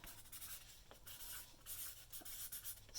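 A marker scratching and rubbing across brown paper in quiet, steady strokes with small pauses, faint and close, with no voices.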